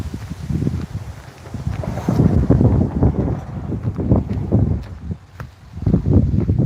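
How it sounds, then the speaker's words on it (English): Gusty wind ahead of an incoming storm buffets the microphone in loud, uneven surges and low rumbles that rise and fall over several seconds, with no talking. "the wind's picking up"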